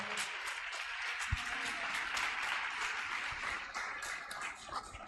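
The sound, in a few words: church congregation applauding and cheering for the Lord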